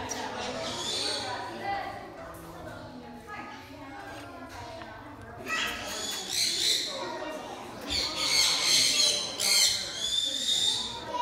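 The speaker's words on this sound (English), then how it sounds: "These are green-cheeked conures." Green-cheeked conures squawk at a bird park, shrill harsh calls coming in loud clustered bursts, heaviest in the second half, with a person talking early on.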